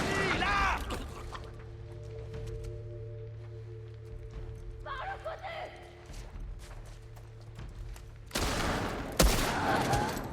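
Gunfire in The Last of Us Part II, a few sharp shots scattered among game ambience, with a player's voice talking at the start and end.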